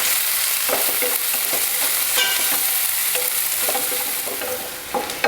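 Chopped onions, garlic and curry leaves sautéing in hot oil in a pan, a steady loud sizzle broken by repeated scraping stirs, with no talking.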